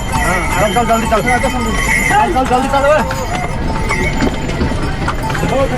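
Line of horses on the crowded Kedarnath pilgrimage trail: continuous clip-clop of many hooves close by, with whinnies and a busy babble of people talking throughout.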